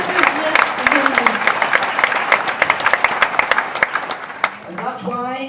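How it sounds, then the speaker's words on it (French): A church congregation claps during a Sunday worship service, loud irregular handclaps and crowd noise in a reverberant hall, thinning out before a voice begins speaking at the end. "va applaudir Jésus."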